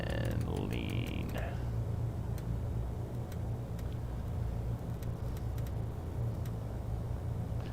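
Cessna 414 twin piston engine idling at about 1100 RPM in a flight simulator, a steady low drone with faint ticking clicks, heard continuously throughout.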